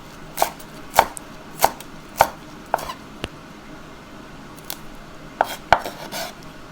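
Sharp knife chops slicing shallots on a cutting board for Lao mushroom larb, a quick burst of about five strikes, a pause, then a few more, close and crisp.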